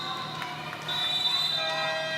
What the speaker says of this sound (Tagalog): Sherwin Meneses presses the timeout buzzer.